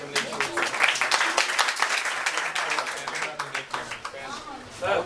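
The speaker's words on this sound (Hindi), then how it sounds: "हमने जोरदार तालियों से सर का स्वागत।" An audience at a teacher-training coaching institute applauds to welcome a guest, a dense, close burst of clapping that swells and then thins out, with voices mixed in.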